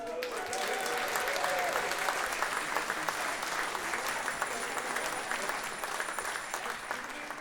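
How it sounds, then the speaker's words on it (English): A comedy club audience claps for a volunteer during a stand-up show, a full, sustained round of applause that swells early and then slowly thins out, with a few voices faintly mixed in. "Round of applause for Steven."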